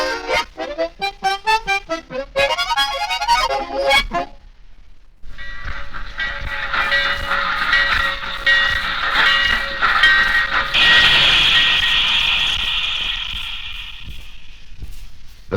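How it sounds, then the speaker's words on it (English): A train whistle sounds in rising tones, then a brief pause before a long, loud hiss and rumble as a train rolls in, with squealing brakes. "The train pulled in."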